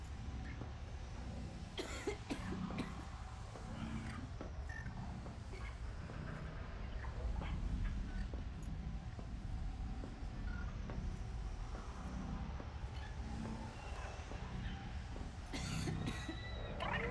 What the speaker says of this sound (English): Why does it sound like I'm coughing like a lady?